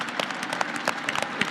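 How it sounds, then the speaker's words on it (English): A conference audience at a criminal justice leadership assembly gives a short burst of steady, moderately loud applause with dense overlapping claps. "If we can give them a round of applause and appreciation."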